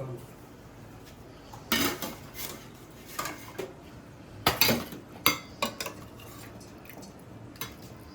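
Plates and dishes clink and clatter in a home kitchen while mutton bone soup pulao is served, several sharp knocks and scrapes scattered over a quiet background, with brief talk.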